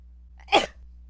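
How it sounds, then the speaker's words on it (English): One short, close sneeze bursts out in an otherwise quiet moment beside a food truck, with a low steady hum underneath. "Just sneeze."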